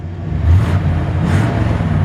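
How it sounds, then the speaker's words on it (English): A 1966 Chevy C10 pickup's exhaust rumbles loudly close by, with a couple of brief revs swelling the deep engine note over steady idling. "Great sounding exhaust"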